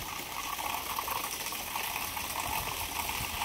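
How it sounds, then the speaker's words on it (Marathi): Heavy rain pours, with water gushing off a roof in a continuous loud rushing splash that stays constant from start to finish, with no talking. "आणि इकडे बघा चांगला पाऊस यायला लागला"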